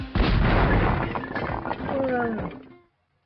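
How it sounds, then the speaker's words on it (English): A building full of ammunition blows up in a Spyro video game: a loud burst of booming, crackling blasts that rumbles for about two seconds and then cuts off abruptly, with a voice mixed in. "Wow! What an explosion!"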